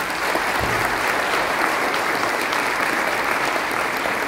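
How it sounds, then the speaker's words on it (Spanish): Strong, sustained applause from a concert audience at a tribute evening with Paraguay's National Symphony Orchestra, a dense steady roar of clapping with no pauses, filling the whole stretch evenly. "para que tenga un fuerte aplauso en esta noche."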